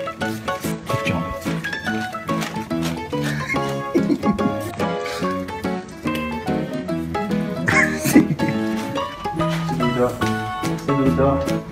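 A Czechoslovakian wolfdog barks and whimpers in repeated close yelps and whines, mixed with people talking nearby.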